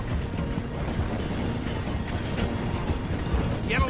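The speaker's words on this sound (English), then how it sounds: "The train is slowing down to go through the station." A train in the video game Red Dead Redemption 2 runs with a steady, loud rumble and rattling clatter, and a brief metallic squeal comes near the end, with no voices.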